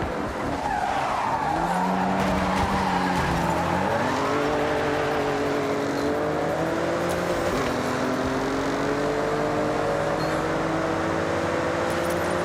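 Car in Forza Horizon 6 drifts through a race with sustained tire squeal over a revving engine whose pitch rises and falls through gear changes, loud and close without pause.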